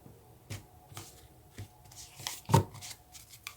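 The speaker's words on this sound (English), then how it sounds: "I wanted to go ahead and shuffle them in front of you" Oracle cards shuffled by hand close up, a soft run of papery riffles and taps with one sharper snap of cards near the middle, quiet and without talk.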